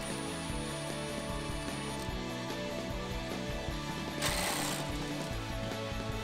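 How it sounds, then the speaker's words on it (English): A ratchet with a 10mm socket removes small bolts from a cover in a Jeep Wrangler JK, giving rapid, close, continuous clicking of the pawl with a brief hissy burst partway through. "I have a 10mm socket. I'm just going to take these little bolts out."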